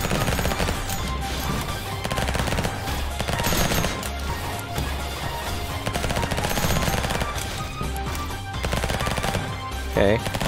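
Video game SMG gunfire on automatic, with repeated bursts of rapid shots rattling close and loud across the whole stretch, occasional impact crashes mixed in, and brief game sounds near the end.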